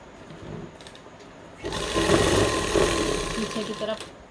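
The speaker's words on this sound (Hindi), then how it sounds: "अब ये जब बराबर हो जाए हमारे तो हमें इस पर सिलाई लगाना है।" A domestic sewing machine runs a continuous stitching burst along a salwar seam over gathered elastic, starting abruptly after a quiet pause and humming steadily up close for a few seconds before trailing off.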